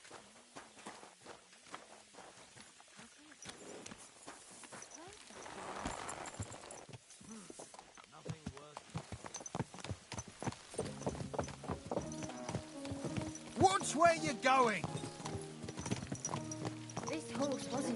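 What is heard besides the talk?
horse hooves while riding, from video game Kingdom Come Deliverance 2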